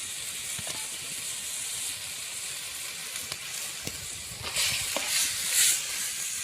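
Pieces of mutton liver sizzle and fry in a hot pan: a steady, close crackling hiss that swells louder toward the end, with occasional stirring scrapes and no talking.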